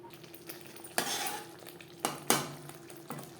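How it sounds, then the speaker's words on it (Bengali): Spice paste for an okra dish stirred and sautéed in a pan over low to medium flame, with a soft background sizzle broken by several bursts of spoon scraping and clatter, fairly quiet and close. "মশলা কষাবো লো টু মিডিয়াম ফ্লেমে"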